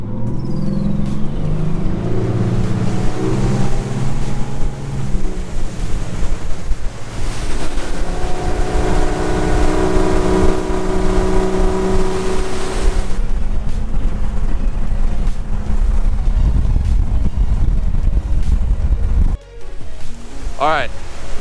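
A Latitude tournament motorboat with Yamaha 300 outboard engines runs across open water, a loud continuous engine drone blended with rushing water, waves and heavy wind buffeting throughout.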